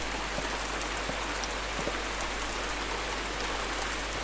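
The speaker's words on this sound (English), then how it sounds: "Why would I stay outside when it's goddamn cold and raining?" Steady rain pours down in an outdoor night scene of the horror video game Silence of the Sleep, a dense constant hiss of falling drops with a low rumble underneath and no talking.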